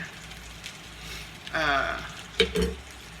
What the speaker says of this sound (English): my shrimp is going to go in with the onions while they're grilling and the garlic while it's cooking